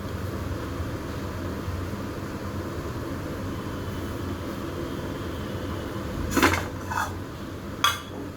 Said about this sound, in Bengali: এখানে যেসব বাসন ফাসনগুলো আছে কাজের মাসি মেজে রেখে চলে গেছে সেইগুলো গুছিয়ে নেবো